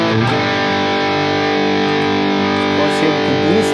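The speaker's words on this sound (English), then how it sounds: "Instead, we will add a distortion block. Then we can choose maybe the new ghost drive." An electric guitar played through a Fractal FM9 ghost drive distortion block rings out as one loud, thick, sustained distorted chord that holds steadily for several seconds.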